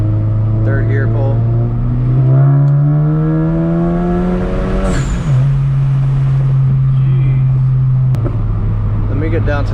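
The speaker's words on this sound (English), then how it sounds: "Third gear pull." A tuned manual VW Mk8 GTI, Stage 2 on E85, pulls hard through third gear, its engine note climbing steadily in a loud, close in-cabin drone before a brief dip as the revs reset, with a voice heard over it.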